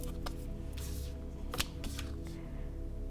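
Tarot cards are shuffled by hand in a quiet room, with soft riffling bursts and a few sharp snaps of cards, close and fairly faint, with no one talking.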